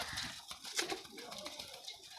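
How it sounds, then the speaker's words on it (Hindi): Pigeons in a loft of paired breeding birds coo softly and continuously over a rustling background of wing flutters and movement, close by with no speech. "ये भी कबूतर देख रहे हैं"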